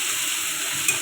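Spice paste of ground ginger, green chilli and cumin sautéing in a pan, giving a steady, close sizzle and hiss that fills the whole moment without any talk.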